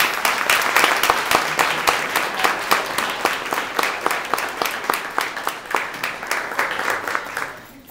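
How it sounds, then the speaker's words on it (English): Audience applause at a nursing school pinning ceremony, a dense wash of steady clapping with sharp individual claps standing out, holding loud throughout before tapering off near the end. "I would love to applaud them for all of their hard work."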